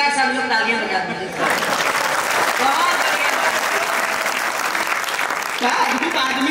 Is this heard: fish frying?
no